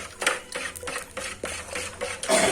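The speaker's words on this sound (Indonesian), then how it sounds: "aduk-aduk kembali" Abamectin pesticide solution being stirred in a container, a series of scraping, clinking strokes roughly every half second, close and moderately loud with no talk.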